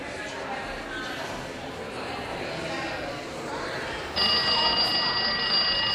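A timer alarm goes off during a dance and movement professional development session, a sharp, steady electronic beep that cuts in near the end over continuous chatter in a busy room.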